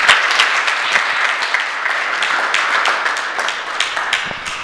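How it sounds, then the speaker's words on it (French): An audience applauds together at a solar training certificate ceremony in Thiès: dense, steady clapping from many hands, fairly close and loud, sustained throughout without any talking over it. "je voulais bien que vous applaudissiez pour lui"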